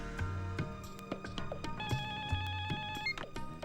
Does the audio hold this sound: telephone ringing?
yes